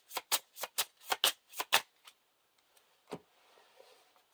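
Cards from the Lord of the Rings card game are riffle-shuffled close up in a quick run of about eight crisp, evenly spaced bursts, followed by a couple of softer taps and quiet handling.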